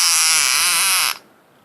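A toad lets out a loud, buzzing, trilling croak that holds steady for about a second, then cuts off abruptly, leaving faint background quiet.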